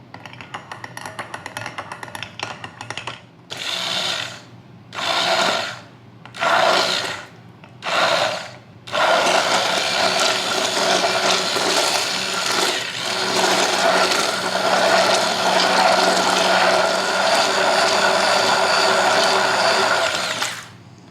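An electric kitchen blender whirs through vegan mayonnaise, starting on low speed in several short pulses before settling into a loud, continuous close-up run.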